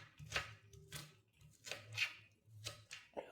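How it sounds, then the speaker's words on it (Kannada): A knife finely chopping onion on a board in a home kitchen, six or so crisp, evenly paced strikes, close and fairly quiet, with soft gaps between cuts. "ಈರುಳ್ಳಿಯನ್ನು ಚಿಕ್ಕದಾಗಿ ಕಟ್ ಮಾಡಿ ತೆಗೆದುಕೊಳ್ತಾ ಇದ್ದೇನೆ."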